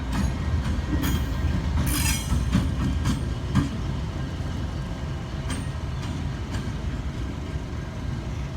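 A Norfolk Southern freight train backs up with a steady heavy rumble of rolling cars, rhythmic wheel clatter and a few brief high squeals, close and continuous.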